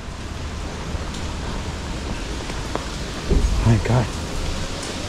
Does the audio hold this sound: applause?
no